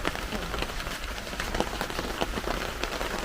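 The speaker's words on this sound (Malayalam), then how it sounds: "മഴ തുടങ്ങിയിട്ടുണ്ട്." Steady rain pours down onto a surface, a dense continuous hiss with fine patter and occasional heavier drops, fairly close and without voices.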